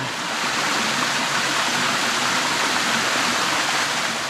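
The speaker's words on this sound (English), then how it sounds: "Ooh, there's a lot of water noise here. What have we got? Oh, a little side stream coming in." A small side stream spills over slippery, green rocks in a gully, making a loud, close, unbroken rush and gurgle of water throughout, with no one speaking.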